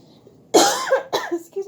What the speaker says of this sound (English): I'm going to pause a minute while I cough.